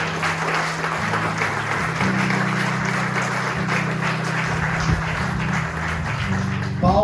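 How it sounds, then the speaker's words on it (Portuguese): A church congregation claps together over a sustained background music drone, the applause steady and moderately loud throughout. "Dê uma salva de palmas para ele."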